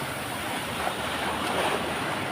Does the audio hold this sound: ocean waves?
yes